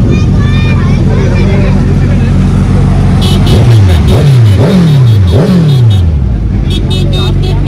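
BMW S1000 RR superbike engine revving on a highway, a run of rising-and-falling revs mid-clip over steady road and wind noise, with people talking throughout.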